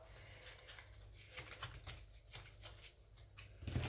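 Tarot cards are handled and the last card drawn from the deck, a quiet series of soft papery slides, flicks and taps close by, ending in a slightly louder shuffle.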